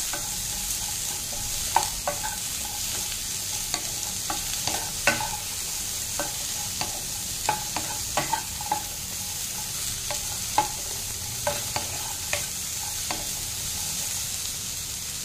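Mixed vegetables with paneer and broccoli sauté in a pan, a steady close sizzle broken by repeated clicks of a spatula stirring, with no voices.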